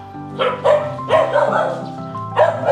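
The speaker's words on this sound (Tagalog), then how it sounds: "Aso sila." Several dogs on a subdivision street bark in repeated yapping bursts, some higher and whiny, fairly close and loud against a low steady hum.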